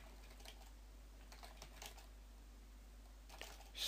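Keys tapped on a computer keyboard while entering a password, a few scattered soft clicks in short bursts, faint and close in a quiet room.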